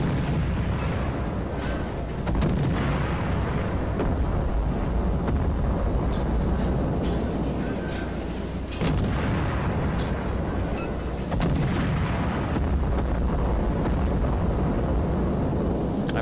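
Salvo of heavy naval guns firing in the World of Warships game, from a light cruiser fighting at close range: loud booming blasts around 1, 9 and 11.5 seconds over a constant rumbling battle din, with no talking.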